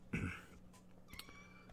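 A cat meows several times at close range in a quiet indoor setting, short tonal cries with brief pauses between them.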